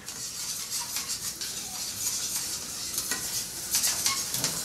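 Butter melting into a pan sauce for dove breasts, a soft steady sizzle with light stirring and utensil clinks, close up and without talk.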